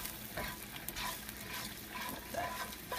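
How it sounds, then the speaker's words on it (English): Garlic with salt and pepper stirred in a hot pan, a steady close sizzle with soft scraping strokes throughout, no voices. "Stir this for about 30 seconds to a minute"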